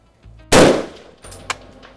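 A rifle loaded with STS M118 ammunition fires at a steel plate target: one loud, sharp report with a decaying echo, then a fainter short impact a second later.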